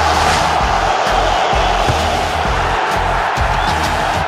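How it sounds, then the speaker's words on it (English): A capacity stadium crowd in the video game FIFA Football 2004 roars and cheers in a dense, continuous wash of noise, loud and steady throughout, with no clear voice standing out above it. "it's a capacity crowd here today for this big one, and you can feel the tension and the excitement in the air"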